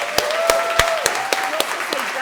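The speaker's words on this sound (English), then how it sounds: "Could we all just give a big round of applause to Victoria for everything she's done?" Scattered individual hand claps pop out sharply at an anniversary gathering as the audience begins a round of applause, with a voice speaking over them.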